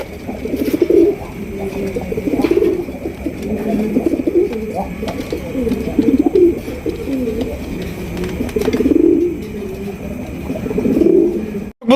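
Racing pigeons coo close by, low throaty calls repeating in a steady rhythm over a faint constant hum.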